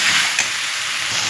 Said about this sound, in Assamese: মছলাখিনিও ভাজা হৈছে, ধুনীয়াকৈ তেল ওলাইছে।